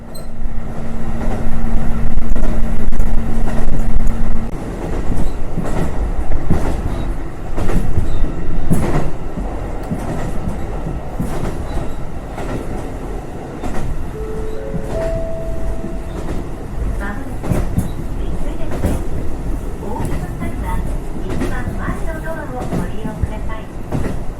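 Train on the JR Rumoi Main Line in Hokkaido in late autumn, running steadily at about 80 km/h, heard from on board: a loud, continuous rumble with rhythmic wheel clatter, a sustained tone early on and brief rising tones later.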